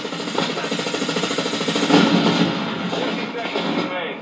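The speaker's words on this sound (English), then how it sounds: "So we fired up a bit of Call of Duty on the PlayStation 5," Call of Duty gameplay on a PlayStation 5 heard through the built-in speakers of a Loewe bild i.55 OLED TV: rapid, rhythmic bursts of gunfire and thuds at fairly loud room volume, with a brief louder swell midway.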